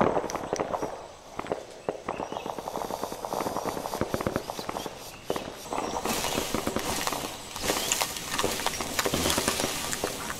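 Distant gunfire in Arma 3's Vietnam-era SOG Prairie Fire setting, scattered sharp cracks and bursts at middle distance, irregular and fairly loud against a steady outdoor background.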